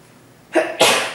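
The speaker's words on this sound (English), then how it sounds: "I felt that sneeze coming on for the last 10 minutes" A single loud, sharp sneeze up close: a quick inhaled buildup followed by an explosive burst, with near silence before it.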